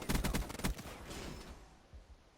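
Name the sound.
HVK assault rifle gunfire in a video game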